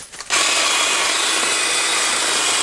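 An electric chainsaw cuts into dead wood, starting abruptly after a brief quiet moment and then holding a loud, steady high-pitched whine close by.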